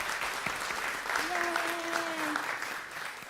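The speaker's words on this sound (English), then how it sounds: "I want to give a big round of applause for Janet Hammer, beautiful and talented, and our celebration singers." A church congregation applauds after a choir performance, a steady mid-level patter of clapping with a short whistle or cheer and a voice calling out over it.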